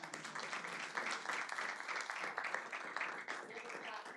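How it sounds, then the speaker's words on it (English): Audience applause at a public schools board of education meeting, a moderately quiet, continuous patter of many people clapping in a room, steady throughout. "So, give a clap"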